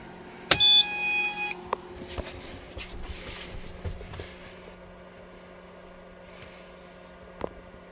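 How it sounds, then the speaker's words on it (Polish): A camper's sensor alarm gives a sharp electronic beeping tone near the start for about a second, followed by scattered clicks and a faint hum in an otherwise quiet space. "Na jednym obwodzie jest też ten czujnik, więc on zapiszczy"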